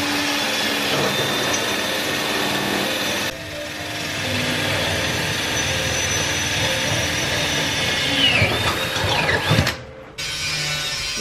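A power drill whines and grinds steadily against trailer sheet metal, with a brief pause partway, a shift in pitch near the end, then a short cutoff.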